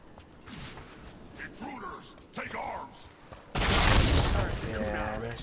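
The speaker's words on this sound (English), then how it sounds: "They've got mortars." Mortar explosions in the fantasy video game Dragon Age: The Veilguard, a heavy boom bursting in after a stretch of talk and shouting, followed by sustained rumbling battle noise.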